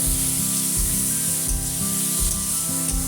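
Spice masala sizzles and fries in a pan for a bottle gourd kofta curry, a loud continuous hiss broken by regular scraping strokes of a spatula, roughly every three-quarters of a second.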